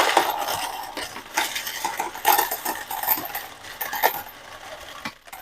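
An advanced coin counter in sort mode runs with a steady metallic clatter and jingle as coins churn and drop through the sorting mechanism, close by, with no talk.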